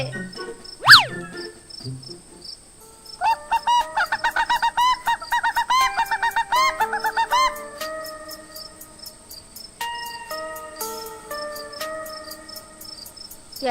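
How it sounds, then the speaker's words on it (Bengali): At night a chicken lets out one sharp squawk, followed by a rapid, pulsing chorus of crickets that trills steadily close by and later continues as softer, sparser chirps. "এত রাতে মুরগি চিৎকার করছে"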